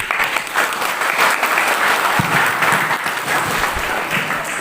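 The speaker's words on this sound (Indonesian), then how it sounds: "Oke, Tepuk tangan." An audience at an Indonesian talk show bursts into steady, dense applause, loud and sustained throughout without any break.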